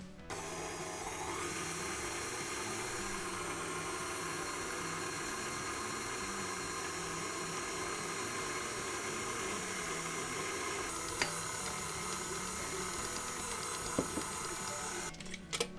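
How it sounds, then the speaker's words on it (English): A stand mixer kneads bread dough with a constant, steady motor whir and a rhythmic mechanical churn, loud and close throughout with no break, joined by a couple of faint knocks near the end. "let the machine do all the kneading work for us"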